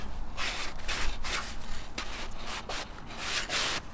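Sandpaper rubbed by hand over a plastic car bumper grill, a run of rough scratchy back-and-forth strokes in an uneven rhythm, close and fairly loud, with no voices.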